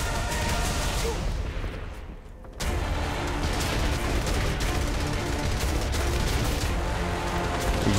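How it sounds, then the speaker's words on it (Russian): A dense, loud barrage of gunfire and explosions from the video game Saints Row: The Third rolls on almost continuously. There is a brief dip in intensity early on, then the rapid shots and booms resume at full force. "Ой, взрывы!"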